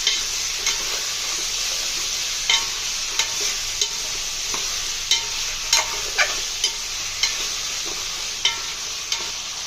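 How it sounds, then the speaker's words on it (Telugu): Cut potatoes and tomatoes are stirred in hot oil for sambar: a loud continuous sizzle with regular scraping spoon strokes about once a second, close and alone. "ఇవి కూడా ఆయిల్లో బాగా కలుపుకోవాలి"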